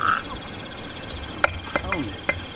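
Frogs croak outdoors beside an open-air cooking spot, a few sharp, spaced calls standing out over a steady chirping insect chorus.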